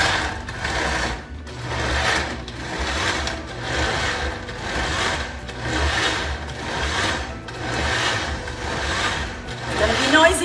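A kitchen blender whirs continuously as it purees hot green soup, its lid held down under a cloth, with a steady motor drone pulsing slightly in rhythmic waves, loud and close.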